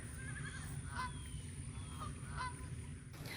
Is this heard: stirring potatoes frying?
no